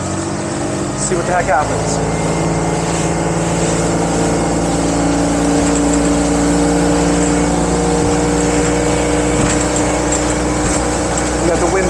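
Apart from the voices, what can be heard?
Mercruiser MPI boat engine throttling up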